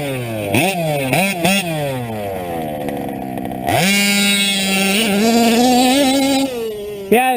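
A two-wheel-drive fifth-scale RC truck engine revs hard in several quick rising bursts, then holds a loud, buzzing full-throttle drone close to the mic that climbs steadily before easing off and giving a final blip.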